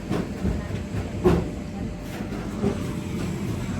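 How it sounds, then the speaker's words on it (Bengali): A Humsafar Express sleeper train rumbling as it pulls away on a foggy morning, with a steady low roar, hiss and faint clattering of wagons, heard from nearby on a platform. "জাস্ট ট্রেনটা ছাড়লো"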